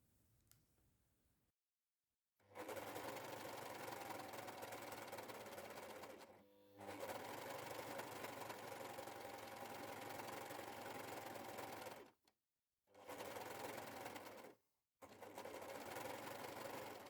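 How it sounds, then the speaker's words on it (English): Sewing machine stitching pre-serged dress facing pieces with wrong sides together, running in long steady bursts with a few short pauses between seams, close and clear with no talk. "I can now sew them with wrong sides together"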